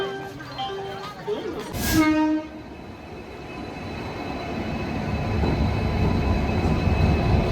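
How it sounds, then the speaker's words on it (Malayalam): A WDP 4D diesel locomotive, number 40485, moves in to couple with an express train at a station, sounding a loud horn blast with steady diesel rumble and rolling noise under people talking. "ജിയോസിയുടെ ഒരു WDP 4D ആട്ടോ. 40485 നമ്പർ. നമ്മൾ വന്നിറങ്ങിയ ട്രെയിനിന് കപ്പിൾ ചെയ്യാനായിട്ടോ പോണത്."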